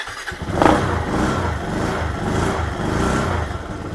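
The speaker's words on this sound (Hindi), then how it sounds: "अब करते हैं बाइक को थोड़ा सा स्टार्ट।" A motorcycle engine starts up close by, then settles into a steady, rumbling idle that runs throughout.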